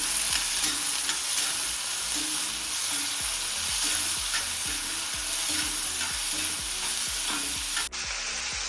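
Crushed ginger, garlic and green chili fry in oil with a constant close sizzle, while a spoon stirs and scrapes the pan in a regular rhythm throughout.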